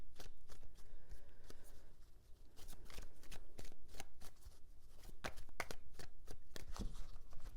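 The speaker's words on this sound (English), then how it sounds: "Three shuffles." Tarot cards being shuffled by hand: a dense, continuous run of papery riffles and sharp card snaps, close and steady throughout, with no talking.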